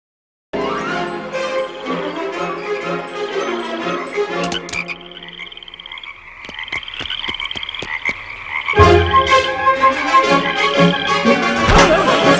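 Cartoon toads croaking in The Simpsons, a steady run of rapid raspy croaks that thin out midway and then return louder and denser, close and busy with no talk over them.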